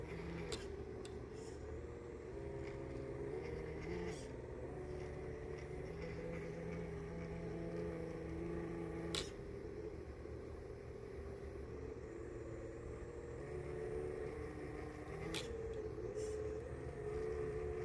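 A remote-control car runs on a slick outdoor track at night, its motor a steady, fairly faint whine and rumble with a few sharp clicks, no talk.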